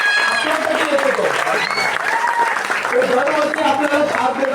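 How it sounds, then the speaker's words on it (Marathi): A crowd claps loudly and continuously at a festival gathering while voices ring out over the applause throughout. "एकदा फक्त जोरदार टाळ्या"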